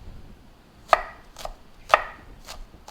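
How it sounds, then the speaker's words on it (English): An onion is chopped with a knife, leaving the root on. Two sharp, close knife strikes land about a second apart, each followed by a lighter tap, all in a quiet room with no talk. "This is how you chop an onion as well."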